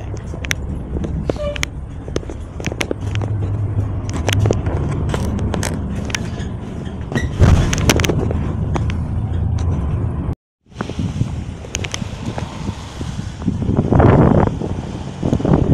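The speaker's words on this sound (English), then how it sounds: "The 744 bus has just pulled up." Outdoors at a stop, an NJ Transit 744 bus in Paterson arrives under continuous wind buffeting, with a low engine rumble, scrapes and a brief dropout midway, then a louder swell of engine noise near the end.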